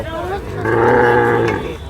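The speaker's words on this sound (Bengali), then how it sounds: "এখানে দেখতে পাচ্ছেন একদম রেল লাইনের নিচেই যে দেশাল গরু রয়েছে" Cattle bellow at the crowded Diabari Qurbani livestock market, held right under a railway line; one long, loud low moo swells up over the steady crowd murmur and voices.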